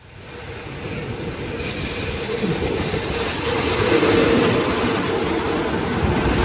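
Daewoo diesel railcar express train rolling into a station in Thailand, heard from inside: a steady, loud rumble of wheels on rail with high squealing from the wheels, building slightly as it slows, no voices.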